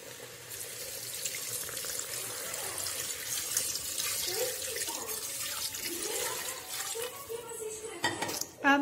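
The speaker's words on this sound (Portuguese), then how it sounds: "Coloquei o macarrão e vou colocar água agora." A continuous stream of tap water runs into a pressure cooker holding uncooked macaroni, a steady broadband rush with a few faint clinks of pans near the end.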